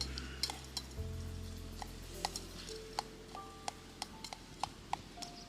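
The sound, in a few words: Spam being stirred and browning in a pan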